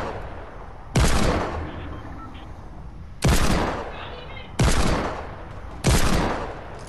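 Video game gunfire: four loud, sharp blasts spaced a second or two apart, each decaying into a ringing tail, with faint game ambience between them.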